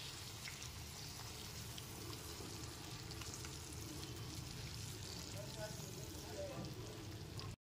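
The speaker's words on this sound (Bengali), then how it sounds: "টমেটো পেস্টটা দেওয়ার পর খুব ভালো মতো একবার মিশিয়ে নিচ্ছি" Tomato paste stirred into a hot frying pan for a vegetarian capsicum paneer dish, giving a steady sizzle with soft scraping under it. The sound holds at an even level from start to finish.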